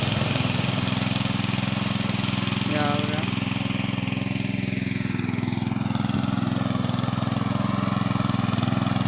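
Tractor engine running steadily during field sowing in the Konkan countryside, a loud constant droning hum with someone speaking briefly over it.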